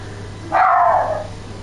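A single dog bark rings out loud and close, a short, sharp bark that trails off.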